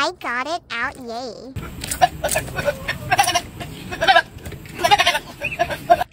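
A high, quavering bleat like a sheep opens the clip, followed by lively overlapping chatter and laughter from several people nearby.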